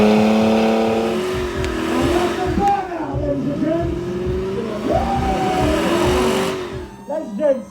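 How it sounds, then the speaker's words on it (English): A Dodge Challenger does a burnout at a live car show, its engine revving hard and falling back in loud, rising and sagging bursts with tire noise, crowd sound and speech mixed beneath. "we've got a car burnout"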